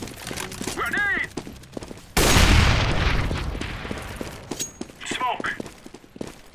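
A grenade blows up in Counter-Strike: Global Offensive during a Dreamhack Winter 2014 quarterfinal match, a sudden heavy boom that fades into a long rumble, with voices and gunfire around it.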